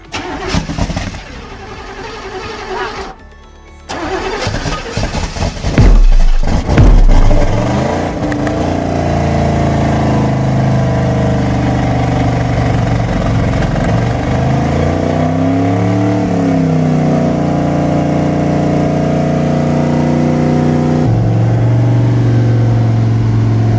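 A rebuilt small block Chevy V8 cranks, catches and roars to life, revving loudly before settling into a steady, rumbling idle close by.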